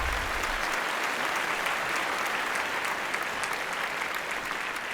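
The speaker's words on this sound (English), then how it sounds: "please join me once again in applauding all our winners today." An audience at a CEO conclave applauds the award winners, a dense, steady roar of many hands clapping that holds evenly throughout with no voices over it.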